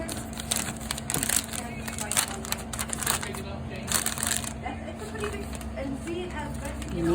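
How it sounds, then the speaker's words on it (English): Wrapping paper being folded around a hand-tied bouquet of roses, glued in place: a series of soft crinkles and rustling taps, close and uneven, over faint background hum and a talking voice. "And he folds the paper over."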